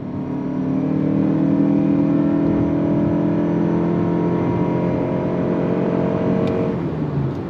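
A 2025 Mazda CX-50 Hybrid SUV under throttle gives a steady, loud engine drone with a whirring tone that holds for several seconds, then drops away near the end.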